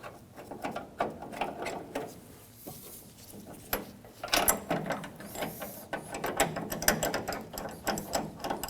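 A ratchet clicks in quick bursts as bolts are driven into a Ford F-150 tailgate hinge, with rapid pawl chatter coming in uneven runs and short pauses, near and fairly quiet.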